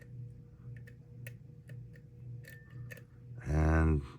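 Lock pick clicking against the pins inside a PACLOCK 90A PRO padlock: a steady series of soft, close ticks, followed at the end by a short, louder burst of buzzy noise.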